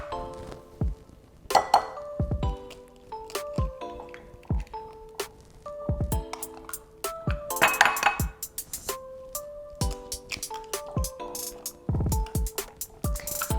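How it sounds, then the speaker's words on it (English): Eggs are cracked into milk for an onion blossom batter, with sharp clinks of glass and dishes and dull knocks scattered irregularly through a quiet kitchen. "Now we are going to crack my eggs and put it in our milk."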